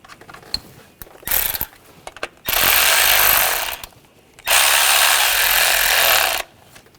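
Ratchet snugging down ignition coil bolts on a 2014-2020 Nissan Rogue 2.5L engine: two sustained bursts of fast ratcheting, loud and close, with a few lighter clicks and taps before them.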